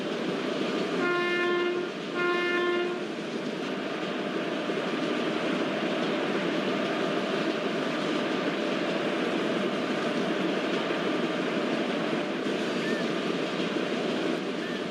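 A video game electric train hauled by a WAG7 locomotive rumbles steadily along the rails with a constant roar, and two short horn blasts sound near the start.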